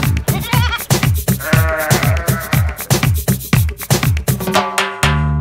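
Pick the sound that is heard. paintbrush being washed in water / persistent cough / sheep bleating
sheep bleating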